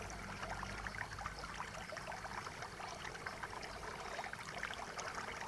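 River water flows in a steady, even rush, a continuous close-up babble and trickle with no breaks or voices.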